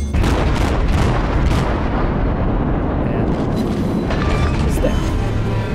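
A warship's naval gun salvo in the World of Warships game, a cruiser battle, with a heavy sustained boom and rumbling roar that fills the whole stretch, loud and dense without a break.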